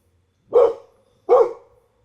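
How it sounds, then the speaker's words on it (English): Two sharp dog barks ring out close by, evenly spaced less than a second apart, with silence between them. "Because I have dogs."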